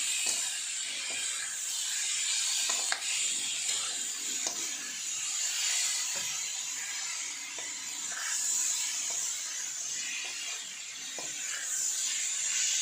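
Okra frying with spices in a pan for Sindhi bhindi bassar, giving a steady close hiss and sizzle throughout with faint crackles and no talk.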